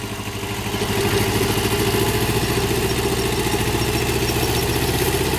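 A tractor engine chugging steadily in low gear while harvesting potatoes in a field, a close, continuous rumbling idle with rhythmic clatter and no talk.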